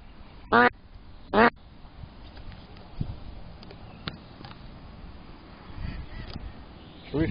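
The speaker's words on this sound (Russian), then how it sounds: "Это кряква отзывается." A mallard hen answers a duck call in spring with two clear quacks close together early on and another at the end, over an outdoor background of low rumble and faint scattered noises.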